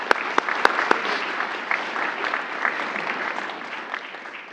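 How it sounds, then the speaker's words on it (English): An audience at an ROTC commissioning ceremony claps in a steady, dense round of applause, with a few sharp near claps at the start and an even wash of hands sustained throughout. "So please, let's give a round of applause to our families."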